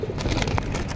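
Soft cooing and wing noise from a flock of pigeons kept by a Bangladeshi fancier, heard close by with a few brief calls over a low, busy background.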